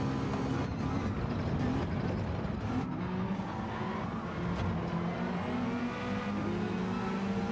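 McLaren race car in the Gran Turismo 7 driving game, its engine droning steadily and loud throughout with a continuous low rumble, other cars' engines mixed in, no voices.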